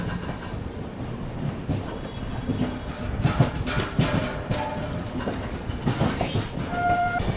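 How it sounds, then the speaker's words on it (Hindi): An Indore Bhopal Express hauled by a WB5 locomotive passes close by, a steady rumble of wheels and carriages with clicking rail joints and brief higher squeals and tones rising over the din. "और कोई तो ट्रेन के साथ क्रॉसिंग हो रही है WB5 लोकोमोटिव के, इंदौर भोपाल एक्सप्रेस"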